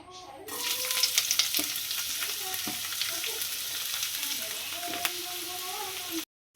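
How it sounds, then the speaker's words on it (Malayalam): Chopped onions and shallots hiss and crackle steadily in hot oil for a squid stuffing dish, a close, even sizzle with a few stirring clicks, cutting off abruptly near the end. "എണ്ണ ചൂടായിട്ടുണ്ട്, നമുക്കിനി ചെറുതായിട്ട് അരിഞ്ഞ സവാളയും കൊച്ചുള്ളിയും കൂടി ഇട്ട് കൊടുക്കാം"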